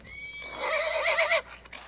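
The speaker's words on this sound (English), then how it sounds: "It's fucking horses." A single loud horse whinny rises and quavers for over a second, then fades into a brief snort.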